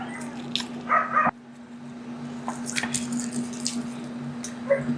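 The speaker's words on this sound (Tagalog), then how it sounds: "pasensya na sa mga aso guys na naririnig niyo yung mga asong ingay" Dogs bark in short, scattered bursts, fairly near, over a constant low electrical hum.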